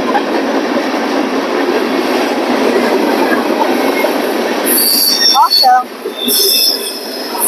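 A Norfolk and Western locomotive-led freight rolls past close by with a loud, continuous rumble of cars, and shrill wheel squeals rise near the end.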